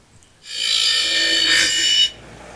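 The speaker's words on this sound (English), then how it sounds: "So now I can grind these welds off and make one piece into 2." A grinder cuts welds off steel bumper brackets for a Chevy C10 rear bumper being fitted to a Dodge D150, giving one loud, close, high-pitched grinding burst that lasts about a second and a half and then stops abruptly.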